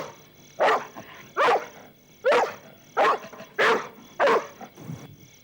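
A dog barks six times in a loud, close, evenly paced series, each bark sharp and short, with brief quiet gaps between them and no talk.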